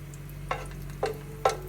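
Green chilli and bay leaf frying in hot coconut oil for plain kuska biryani: three quick sizzling bursts as pieces hit the pan, over a low steady hiss, close, with no talking.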